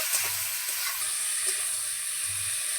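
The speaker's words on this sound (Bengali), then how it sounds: "এবার আমি কাঁচা লঙ্কা, লবণ, হলুদ ঝিঙে আর আলুর সঙ্গে খুব ভালো করে কষিয়ে নেব" Ridge gourd and potato sautéing in a pan with green chilli, salt and turmeric, a steady broad sizzle with a few soft low stirring scrapes, close and continuous with no talking.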